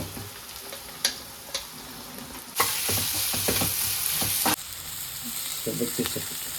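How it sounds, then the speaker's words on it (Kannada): Oil sizzles loudly in a pan as mustard seeds, curry leaves and onion go in for a tempering, with sharp stirring clicks and a sudden hissing surge midway that settles back to a softer crackle. "ಇವಾಗ ಎಣ್ಣೆ, ಸಾಸಿವೆ, ಕರಿಬೇವು, ಈರುಳ್ಳಿ ಹಾಕೊಂಡು ಫ್ರೈ ಮಾಡ್ತಾರೆ."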